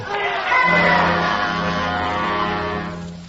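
Agitated crowd in an old-time radio drama of The Day the Earth Stood Still, gathered around a landed spaceship: a loud, sustained murmur of many voices with shouts, steady for a few seconds before easing off.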